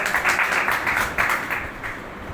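Audience applause at a school ceremony at Government Boys High School Daultala, a burst of clapping from a crowd that swells and fades in waves over a couple of seconds.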